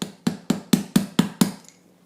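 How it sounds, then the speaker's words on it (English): Seven sharp, evenly spaced hammer taps ring on the metal of a turbo cartridge from a 1.6 diesel engine, each with a brief decay, then silence. "and then hammer it there"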